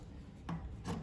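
Two soft scraping snips a fraction of a second apart as scissors cut through a fabric pattern to shape a gown's neckline, close and quiet with no talk.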